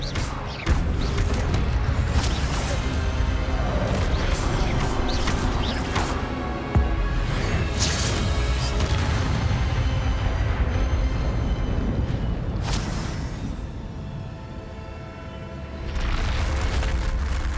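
Magic spells cast in a Harry Potter video game: a dense, continuous wash of booming blasts, rumbling and mechanical crashes, with sharper bursts near the start and middle and a brief dip before a final surge.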